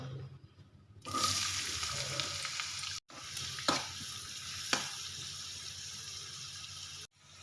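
Onions frying in desi ghee in a pan give a steady broadband sizzle that starts abruptly, with a brief break midway and short stirring clicks, close and fairly loud with no talking.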